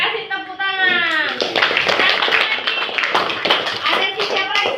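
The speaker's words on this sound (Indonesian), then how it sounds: "kasih tepuk tangan" A classroom of students clapping their hands together in a rapid, fairly loud burst, with a voice talking over the start of the clapping.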